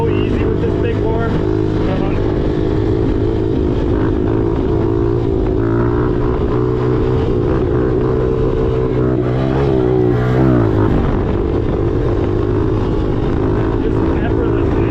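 A Honda CRF110 dirt bike fitted with a big bore kit drones and revs steadily up close while being ridden, with a rider talking over the engine.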